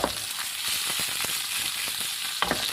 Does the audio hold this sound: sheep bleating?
no